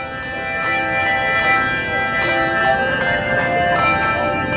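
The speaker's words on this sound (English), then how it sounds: "that, of course, is Jingle Bells, played by the Bell Choir here" Handbell choir ringing Jingle Bells at a televised holiday event, a bright cluster of sustained, shimmering bell tones with repeated struck attacks layered over one another, loud and close with a low murmur of background noise.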